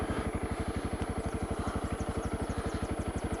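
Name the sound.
motorcycle engine idling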